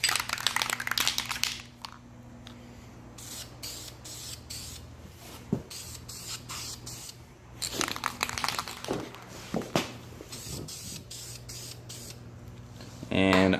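Short aerosol spray bursts coating hex key wrenches, moderately close, separated by pauses and crinkling handling noise, with a steady low hum underneath.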